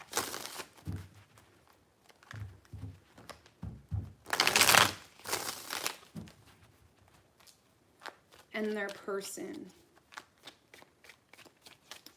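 Tarot cards are shuffled in several bursts of riffling and flicking, close and fairly loud, with a person speaking softly between the shuffles.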